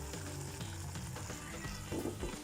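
Homemade pizza sauce boiling in a pot, a soft, faint bubbling and sizzling simmer that continues briefly and quietly with no talking.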